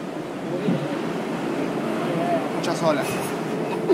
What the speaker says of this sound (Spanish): Muchas olas.